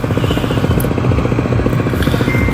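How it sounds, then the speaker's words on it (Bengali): A speedboat on a river passes close by, its engine a loud, rapid, pulsing drone that stays steady throughout with no talk. "একটা স্পিডবোট চলে গেল"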